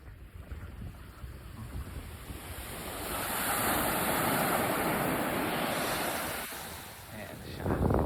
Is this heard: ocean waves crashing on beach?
yes